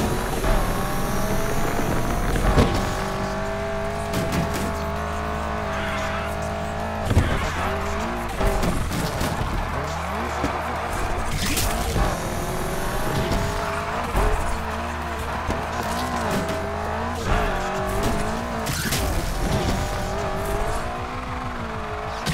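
A Lightning McQueen race car rumbles and revs through a drift in Need for Speed Unbound, its engine note rising and falling while the tires squeal and skid in loud repeated slides.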